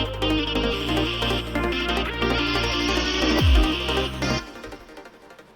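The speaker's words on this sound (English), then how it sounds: "You might have heard this guitar kind of sound." A guitar-like synth sound plays inside the break of a psytrance track, layered over a steady bass and pads, with a descending sweep near the end before the mix thins out.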